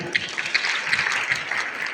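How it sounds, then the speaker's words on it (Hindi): An audience at a community quiz event applauds, a steady, fairly soft patter of many hands clapping together for about two seconds. "सभी के लिए तालियां"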